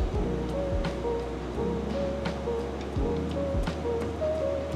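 Hot water is poured very slowly over dark-roasted coffee in a flat-bottom dripper, a soft steady trickle and fizz heard close up over faint background noise.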